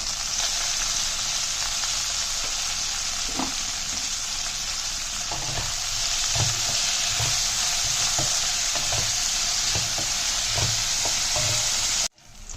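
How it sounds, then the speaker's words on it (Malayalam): Okra (lady's finger) frying in oil with salt, a loud continuous sizzle with rhythmic scrapes of a spatula stirring roughly every half second; nobody talks. "നല്ലൊരു ബ്രൗൺ കളർ ആകുന്നിടം വരെ എണ്ണയിലിട്ടത് ഇതുപോലെ മൂപ്പിച്ചെടുക്കണം"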